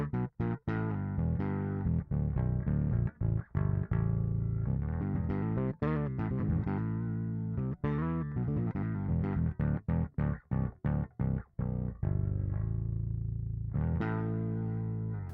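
A bass guitar played through a Darkglass Kaamos pedal with octave and distortion engaged, all controls at noon, thick and fuzzy with doubled low tones, in a run of short rhythmic phrases with brief gaps.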